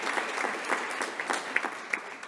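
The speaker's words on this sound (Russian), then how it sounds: "Пожалуйста, аплодируйте." An audience at an award ceremony marking a tobacco-control convention anniversary claps steadily, a dense, even round of applause with a few louder individual claps near the end.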